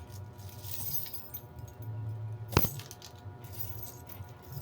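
A padlock key jangles against a bunch of keys in short metallic clinks, with one sharp, louder clink partway through over a low, steady background hum.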